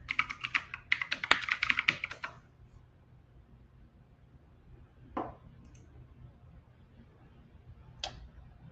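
Quick burst of typing on a computer keyboard, a dense flurry of close clicks for about two seconds, followed by quiet with a couple of isolated taps.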